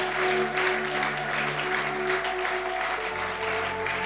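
A church congregation applauds steadily and loudly for several seconds, a dense, continuous clatter of many hands with no voices standing out.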